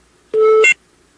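A phone's electronic beep, one steady tone held for about half a second with a brighter chirp at its end, loud and close, standing alone in an otherwise quiet studio.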